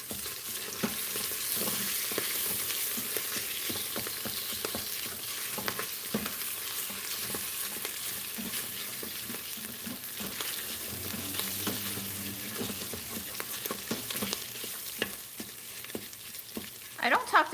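Food sizzles steadily in a frying pan while it is stirred, a continuous bright crackle with scattered scraping knocks and a faint voice briefly in the background.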